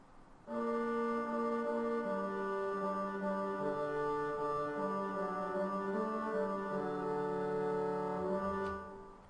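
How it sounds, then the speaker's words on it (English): A sampled bassoon line from a Tchaikovsky passage, played back in Sibelius with no articulations: a smooth, legato melody that steps through several sustained notes, even and fairly soft, alone without talk. "I've got this bassoon line here, which sounds like this with no articulations."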